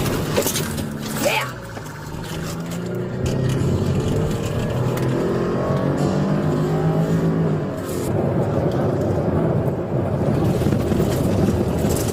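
A stolen police cruiser speeds away during a high-speed chase, its engine roaring and revving hard in rising and falling sweeps, loud and close, with constant wind-like rushing noise throughout.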